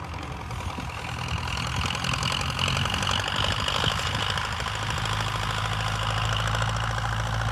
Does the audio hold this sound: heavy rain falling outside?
no